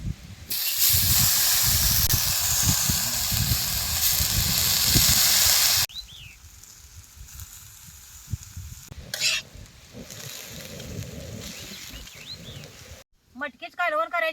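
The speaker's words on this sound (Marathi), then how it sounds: "ही पाण्यात टाकलेली मटकी आता या तव्यात भाजून घ्यायची" Soaked, sprouted moth beans tossed into a hot pan over a wood-fired stove, giving a loud, continuous sizzle with scraping stirs, then quieter crackling and clatter as the cooking goes on.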